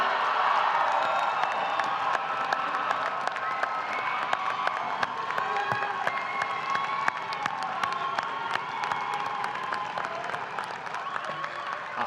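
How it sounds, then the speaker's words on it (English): A crowd at a Fitchburg State University winter commencement claps and cheers for the graduating class, steady sustained applause with scattered whoops, heard from some distance in a large hall. "How about a round of applause for the graduating class of"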